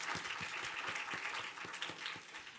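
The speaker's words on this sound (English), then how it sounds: "one more applause for them" Audience applause at a nanotechnology innovation competition, a soft, even wash of many hands clapping heard from some distance, with no talk over it.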